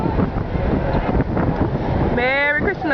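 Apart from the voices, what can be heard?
blustery wind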